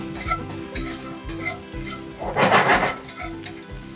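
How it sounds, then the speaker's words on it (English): Rhythmic scraping of a whisk working flour into a cast iron skillet, steady strokes with metallic clinks and a busier flurry midway, no talk. "Just whisk that in."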